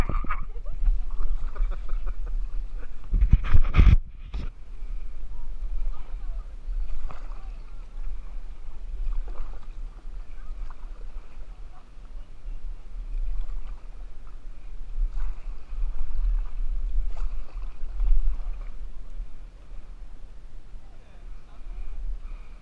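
Kayak paddles splashing and knocking in the water at Weeki Wachee Spring, with one loud thump and irregular nearby splashes amid wind and outdoor noise; voices are heard at times.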